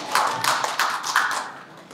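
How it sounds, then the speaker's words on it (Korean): A small crowd claps at an art exhibition opening, a light, fairly faint patter of hands with a few distinct bursts that fades out over two seconds. "박수 부탁드리겠습니다."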